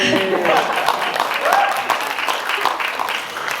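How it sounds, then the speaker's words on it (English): Wedding guests applaud during a speech, a steady wash of clapping from a crowd in a room, with voices mixed in over it throughout. "you can clap"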